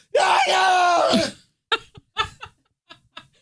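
Distant screams: a long, loud wavering scream, then several short strained yelps and cries with gaps between them, heard alone with no background noise.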